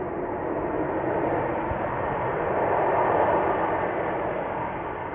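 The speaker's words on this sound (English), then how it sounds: "That sounds like a loud plane." Loud airplane passing overhead at Sheldon Country Park, a steady, broad engine roar that swells slightly and holds throughout, with no talking in the moment.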